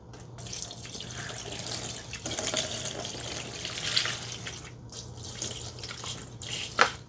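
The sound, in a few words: rinsing PS1 console parts in water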